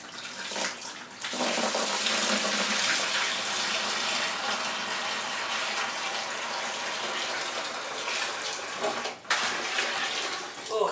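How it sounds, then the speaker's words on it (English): A container of dissolved dye and salt pours into a bucket of water, a steady close gush that starts after about a second, runs loud and continuous, briefly breaks near nine seconds, then resumes. "So I'm going to very carefully pour this in."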